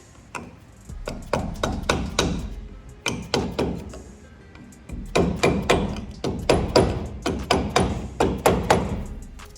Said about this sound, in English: give it a slight little love tap with the hammer, just a soft hammer, and a socket